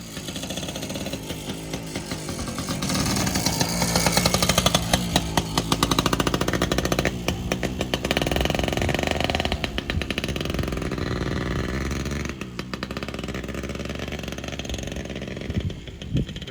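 A Yamaha PW80 dirt bike's small engine runs in cold weather of about 40 degrees with a carburetor needing adjustment, buzzing loudly and unevenly with sputters and surges throughout.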